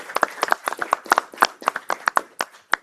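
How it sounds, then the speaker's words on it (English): Audience applause at a Madera city council meeting: a modest crowd of scattered, uneven hand claps, fairly close and loud, continuing steadily for a few seconds with no talk over it. "So a round of applause for this gentleman."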